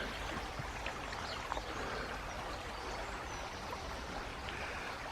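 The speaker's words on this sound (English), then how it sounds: "River flows quite fast there." A fast-flowing river by a riverside walk in Dunster gives off a steady, faint broadband rush, with no other sounds and no one speaking.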